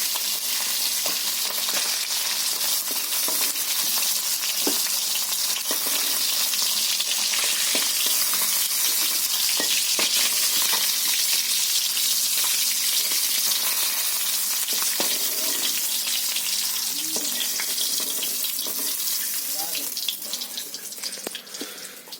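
Small koi fish frying in hot oil make a dense, continuous close sizzle with sharp crackles and spatters that keeps an even loudness before easing off slightly at the end, with no talk.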